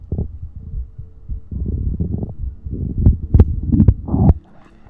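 Soft low gurgling and throbbing rumbles from a stomach, in irregular bursts over close, quiet ASMR-style sound with a few sharper pops toward the end.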